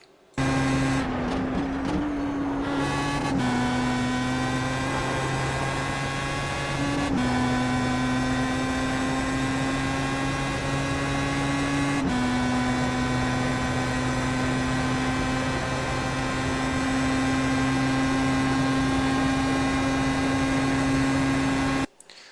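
A race car engine in a racing video game at Monza holds a steady droning tone, with sudden pitch drops at gear changes through the chicane, loud and continuous and with no talk.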